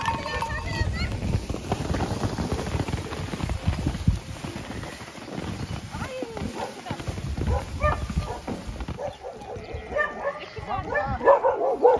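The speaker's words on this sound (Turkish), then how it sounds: "Köpek de onlara bağırıyor." A dog barks repeatedly amid busy outdoor commotion, with people talking and moving around nearby.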